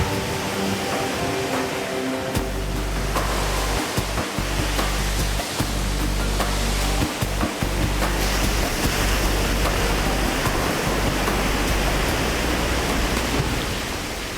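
Ocean surf breaking on the wild west coast of England: a steady, full roar of rushing water with occasional low thuds of heavier waves, continuous and close, with no voices.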